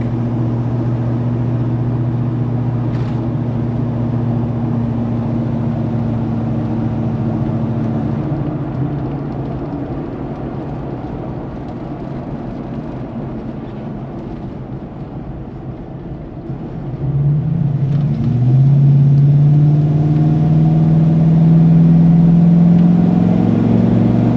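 A 1995 Ford Bronco with a Ford 351 5.8 V8 and Bassani stainless steel exhaust idles with a deep, steady burble up close. Near the end it revs up into a louder, rising exhaust roar and holds it.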